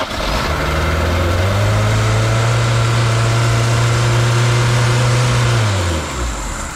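A 1978 Honda Civic engine runs loud and close, its steady drone rising as it is revved and held high for several seconds, then dropping back toward idle.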